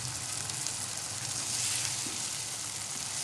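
Chicken and green beans fry in a pan, a continuous hissing sizzle with faint crackles that holds steady at close range, no voices present.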